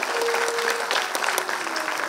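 An audience claps loudly and steadily for a group of children's singing, a dense close burst of applause with a voice faintly under it.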